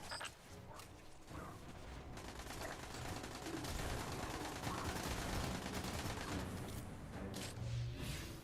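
Dense, sustained gunfire crackles through a firefight in the Destiny video game, with rapid overlapping shots and booming impacts at steady high loudness throughout.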